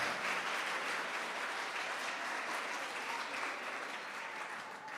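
An audience at a school awards and seventh-grade graduation ceremony claps steadily, a soft, distant blanket of many hands that stays even throughout and eases off slightly at the close.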